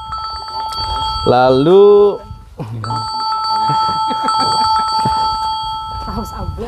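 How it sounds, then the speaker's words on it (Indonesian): A telephone rings with a warbling electronic tone in a short burst, followed by a steady beeping ring, while people talk over it. "Sebentar ya, ada telepon."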